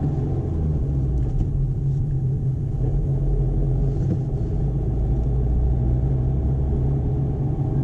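Interior of a car in second gear on a busy main road during a driving lesson, a continuous low engine and road rumble, steady and even throughout.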